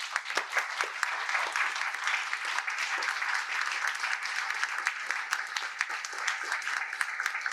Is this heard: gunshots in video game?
no